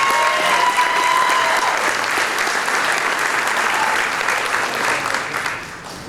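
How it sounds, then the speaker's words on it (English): Sustained audience applause at a junior high school event, a dense, steady wash of many hands clapping close and loud that tapers slightly toward the end, with a murmur of crowd underneath. "Let's give them a big round of applause."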